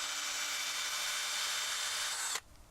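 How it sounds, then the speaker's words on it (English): A homemade wire drill bit bores into wood end grain with a steady, close, high whirring grind that holds evenly, then cuts off abruptly just before the end. "Now we'll try drilling into end grain."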